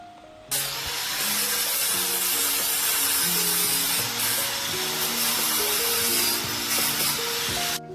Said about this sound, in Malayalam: മൂർച്ചുള്ള ഭാഗങ്ങൾ, നമ്മളെ കൈമ തട്ടിയാൽ കൈമുറിയാക്കാനുള്ള ഭാഗങ്ങളൊക്കെ ഒന്ന് നമുക്ക് ഗ്രൈൻഡ് ചെയ്തെടുക്കണം